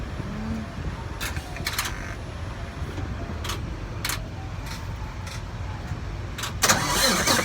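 Truck engine cranking and starting in a workshop, a steady mid-range engine rumble running throughout with a few sharp clanks, then a louder surge near the end as it catches.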